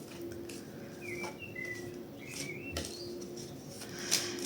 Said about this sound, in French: Il y a les oiseaux